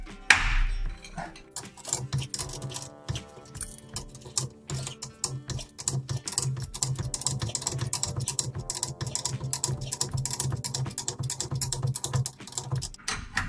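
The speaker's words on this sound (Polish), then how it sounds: "i stukamy młoteczkiem" Rapid, irregular metallic tapping with a small hammer while replacing a floating bushing on a BMW E39 Touring, continuous and fairly close, with a steady mechanical hum running underneath.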